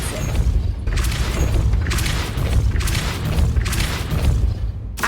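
The Depulso force spell cast in Hogwarts Legacy to raise a gate, a loud, sustained rumbling boom with repeated heavy thuds and grinding crashes that fills the whole span.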